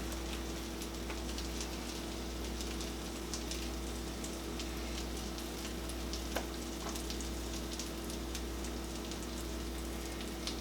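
French toast frying in a pan, a steady dense sizzle with faint pops and crackles throughout, continuous and close with no talking.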